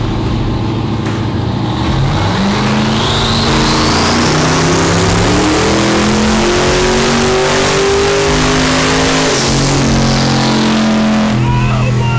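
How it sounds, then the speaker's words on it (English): A high-powered police-style car roars on a chassis dyno, its engine revving hard and climbing steadily in pitch through a long continuous pull, loud and close with no talk. "All we gotta do now is fire up the car and turn on the dyno."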